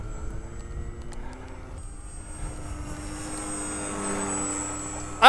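An E-Flite Maule M-7, a giant RC plane on skis, flies over snow with a steady, moderately distant motor drone and whine. The sound swells gradually as the plane passes, and a sharp burst comes at the very end.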